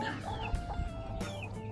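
Chickens clucking nearby, several short overlapping clucks and chirpy calls in quick succession, no talking.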